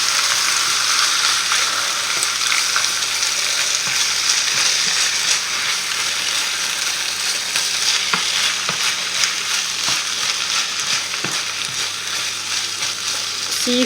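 Onions and spinach fry in oil in a pan, giving a steady, close sizzle with scattered stirring clicks and scrapes throughout, and no voices.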